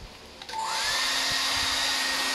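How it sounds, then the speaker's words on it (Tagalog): A hair blower switching on with a brief click and a rising whine, then settling into a loud, steady airy rush close by. "So meron akong hair blower."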